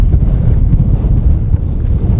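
Strong wind of about 30 mph buffets the microphone at an outdoor shooting range, a loud, continuous low rumble with steady gusting and no break across the clip.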